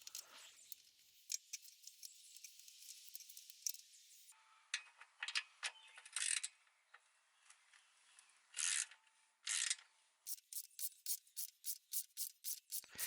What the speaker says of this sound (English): You'll need to unscrew all 6 bolts in order to remove the steps.